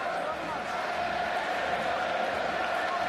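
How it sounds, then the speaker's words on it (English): A packed stadium crowd roars steadily throughout a 2007 Rugby World Cup pool match between South Africa and Samoa, a dense, loud wall of noise with a commentator talking over it. "As the crowd roars"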